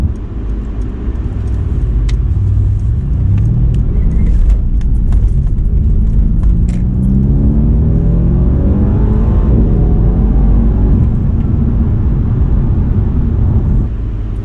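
A Mercedes C63 AMG engine accelerates hard and loud, rising through the revs in sweeping pulls with a deep roar and brief gearshift breaks, heard alone without talk.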